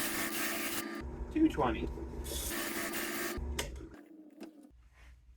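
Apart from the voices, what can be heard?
sanding a round wooden dowel spinning in a drill press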